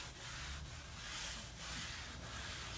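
Belt sander shaping a farm or railroad model layout, a rough abrasive rubbing drone that surges and eases in repeated passes, close and fairly quiet, with no speech.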